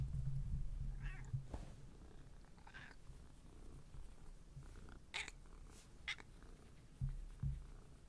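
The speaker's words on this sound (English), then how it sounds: "My cat Magic is here" Pet cat Magic purring softly and close, a low rumbling purr that rises and falls, broken by a few short, faint meows.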